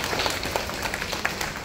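Audience applause from a crowd of listeners, a dense patter of clapping spread steadily across the short stretch at moderate level, with scattered louder claps standing out.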